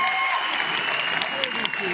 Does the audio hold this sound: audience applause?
yes